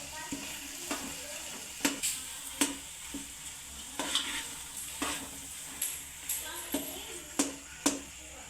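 Potatoes being stirred into a spiced masala with turmeric and salt, frying in a pan for batata poha: a steady low sizzle with a dozen sharp spoon scrapes and taps at an uneven rhythm, close and fairly quiet.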